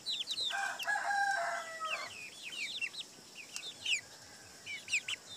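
A rooster crows at a farm where native chickens are raised, one clear crow standing out amid surrounding clucking and chirping from other fowl, moderately close and fairly quiet overall.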